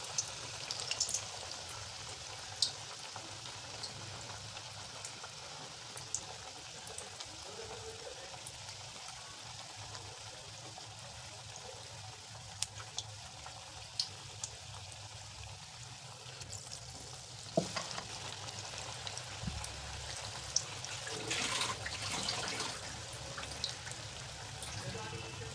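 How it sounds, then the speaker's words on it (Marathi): Battered bitter gourd slices fry in hot oil on a medium-low flame with a soft, continuous sizzle and crackle, faint and steady, with occasional pops and light clinks throughout. "तर ह्याला मीडियम टू लो फ्लेमवरती आपल्याला छान तळून घ्यायचे. छान क्रिस्पी होईपर्यंत तळून घ्यायचे."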